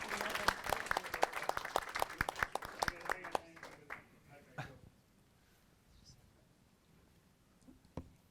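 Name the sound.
audience applause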